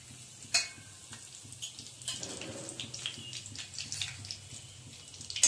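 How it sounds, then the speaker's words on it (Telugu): Mustard seeds, cumin, dried red chillies and curry leaves crackle and sizzle in hot oil, a steady frying hiss broken by a few sharp pops near the start and end. "నూనె కాగిందండి, పోపులన్నీ వేసేస్తున్నాను"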